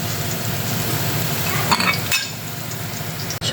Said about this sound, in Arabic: بعدين بنفس الزيت أنزل البرغل